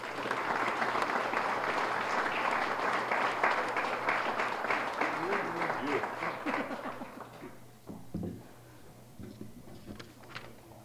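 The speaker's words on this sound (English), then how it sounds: "A big round of applause once again." A room full of people at a youth and civic awards ceremony applauds steadily for several seconds, then the clapping thins out and fades to scattered claps.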